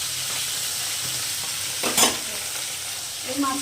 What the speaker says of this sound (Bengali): গ্যাসটা কমে তাড়াতাড়ি মাছ কটা ভেজে নিই তাড়াতাড়ি।